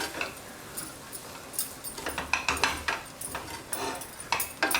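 A spoon mixes grated corn kees with fresh grated coconut, lemon juice and coriander in a pan, making soft, quiet clinks and scrapes in a loose repeating rhythm.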